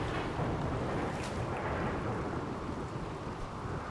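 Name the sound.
rainy thunderstorm in video game RimWorld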